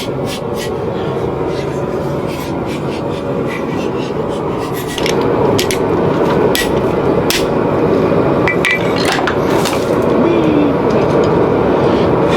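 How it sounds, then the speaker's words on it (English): A hammer pounds metal while a two-piece spring fuller is being made in a smithing setting, dense loud close strikes and scraping repeating rapidly throughout, with a voice heard at moments. "that pounding on it worked a lot better than I was expecting it to"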